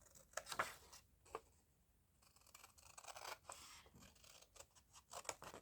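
Scissors snipping through collage paper bits for journal pockets, a series of quiet close crisp cuts in uneven bursts with a short pause, no talking.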